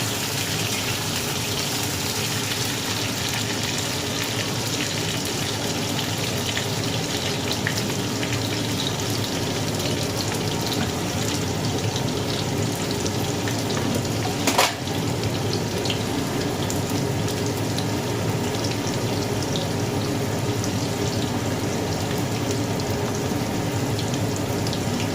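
Cubed potatoes fry with bay leaf and dried red chillies for a fish-head chana dal dish, giving a loud, steady, even sizzle that runs unbroken, close by, with one brief clatter in the middle.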